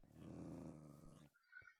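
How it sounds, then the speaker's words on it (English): A dog in the TerraFirmaCraft Minecraft game lets out a deep, sustained growl that stops abruptly and is followed by a short, fainter high whine or squeak. "This noisy dog is just driving me nuts. Will not shut up."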